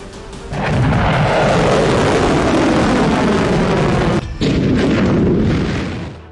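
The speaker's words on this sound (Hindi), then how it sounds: "यमन से हुआ ये मिसाइल हमला देखिए।" A missile strike launched from Yemen on Israel: a loud, sustained rumbling roar that swells quickly and holds, broken by one brief dip before fading slightly.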